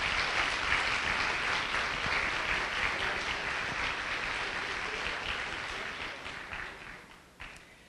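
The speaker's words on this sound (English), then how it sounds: "Let's have another round of applause," Audience applause at an education showcase event, a broad wash of many hands clapping that holds steady and then thins and fades toward the end.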